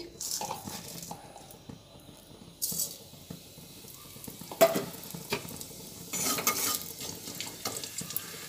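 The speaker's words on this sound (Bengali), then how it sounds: "পাঁচ ফোড়নটা ভেজে নেব" Panch phoron spices sizzle in hot oil in a wok, a soft steady frying hiss broken by sharp scrapes and clinks of a spatula stirring against the pan.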